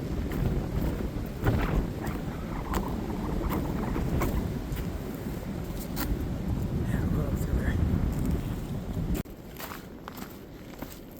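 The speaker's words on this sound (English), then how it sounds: "I'm going to have to deal with this wind again" Wind gusts across a ridge line on the Appalachian Trail in Maryland, buffeting the microphone with a constant low rumble under crunching footsteps and a hiker talking.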